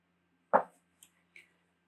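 A computer mouse clicks while a file is saved in building design software: one distinct click, then two fainter, shorter ticks, close and isolated in an otherwise quiet room.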